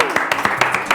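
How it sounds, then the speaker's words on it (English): Brief burst of hand clapping in a classroom, a quick run of sharp claps from a small group of children. "Show everyone at home a round of applause."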